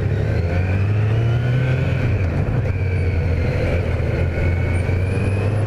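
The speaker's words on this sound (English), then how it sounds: "This guy's like revving the shit out of that bike." A 2018 Kawasaki Z900 motorcycle engine revving hard nearby, a loud, sustained low rumble with rising pitch sweeps layered over steady engine drone and no speech.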